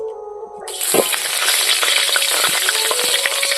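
Bay leaf hitting hot oil for a Koi fish curry sets off a sudden loud sizzle that keeps crackling and hissing steadily, heard alone without voices.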